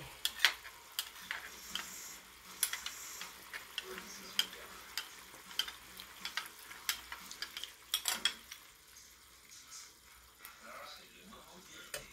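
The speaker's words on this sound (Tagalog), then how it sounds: "Ayan, haluin muna natin bago natin ilagay." Chicken being stirred in a simmering 7up sauce in a pan, with a spoon scraping and clicking in uneven strokes over a soft bubbling sizzle and a voice talking now and then.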